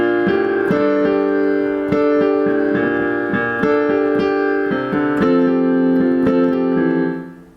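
Piano playing a section of a song, sustained chords with rhythmic repeated notes over a low bass line, close and full, the final chord fading out with no talking.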